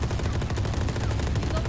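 Rapid automatic gunfire in a video game, a dense continuous burst of shots with a heavy low rumble and no pauses.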